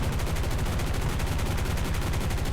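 Aircraft machine guns on a P-47D-28 Thunderbolt in War Thunder fire in a continuous rapid rattle, a loud dense stream of shots with no pauses, heavy and close throughout.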